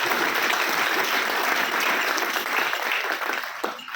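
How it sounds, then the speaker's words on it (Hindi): Loud, dense applause from an audience at an RCM Business gathering, sustained steadily with no pauses and tapering slightly near the end. "मैं एक बार जोरदार तालियां चाहूँगा उनके लिए।"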